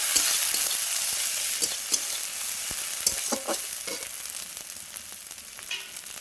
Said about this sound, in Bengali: ভালো করে একটু ভাজা ভাজা করে নেবো।